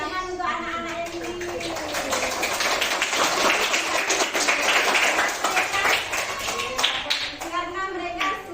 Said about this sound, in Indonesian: Tepuk tangan untuk anak-anak yang ini.